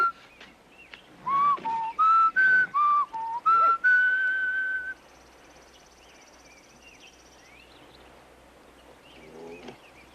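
Someone whistles a short run of clear, sliding notes to calm a horse, close and fairly loud, then a faint high whine lingers over quiet background hiss.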